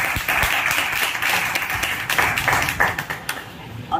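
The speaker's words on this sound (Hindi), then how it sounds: "ताली बजा दो भाई," Students in a classroom break into dense, lively clapping to honour a classmate's exam results, a loud continuous patter close by with a few sharper claps near the end.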